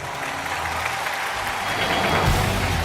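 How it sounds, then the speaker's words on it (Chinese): Studio audience applause at a Chinese televised dating show, a steady dense wash of clapping that holds level and swells slightly near the end, with no voices over it. "掌声请出这一对"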